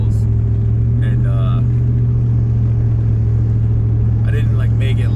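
A truck engine idles loud and deep through a rusty muffler full of holes, a constant heavy rumble throughout, with brief higher squeaks or clatters over it near the start and end.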